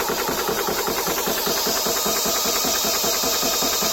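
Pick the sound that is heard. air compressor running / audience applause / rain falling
air compressor running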